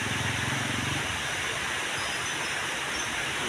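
Rain falling at a parking lot, a dense, steady broadband hiss of drops that stays constant throughout, with a low rumble briefly underneath at the start and no talk.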